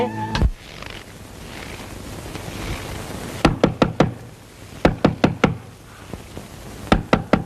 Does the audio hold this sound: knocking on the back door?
yes